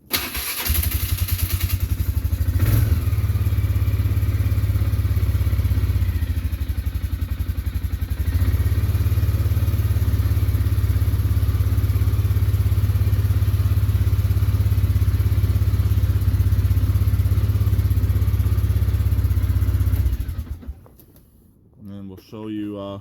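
A four-wheeler ATV engine started cold: a brief cranking burst, then a loud, steady low idle running close by for about twenty seconds before it cuts off abruptly, leaving faint movement.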